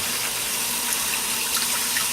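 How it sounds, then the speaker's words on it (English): Warm water runs steadily from a tap over fruit and vegetables in a sink, a loud, continuous splashing hiss with no voices. "You just want to wash your fruit and your vegetables with warm water"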